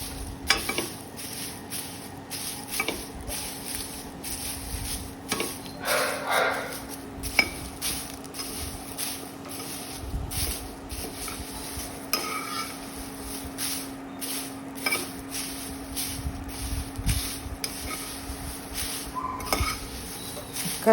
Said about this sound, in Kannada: ತುಪ್ಪ ಹಾಕಿ ನೀಟಾಗಿ ಫ್ರೈ ಮಾಡ್ಕೊಳ್ಳೋಣ.